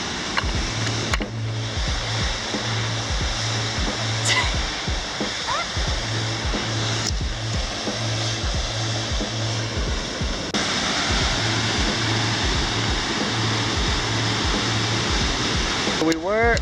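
Linville Falls pours into its plunge basin, heard from the overlook as a constant loud roaring wash of water, with a steady low hum and a few brief clicks and bumps nearby.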